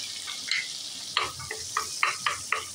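Butter sizzling in a pan over medium heat for masala makhana, a steady bright hiss broken by several short scraping stirs of a spoon against the pan, close up with no voices.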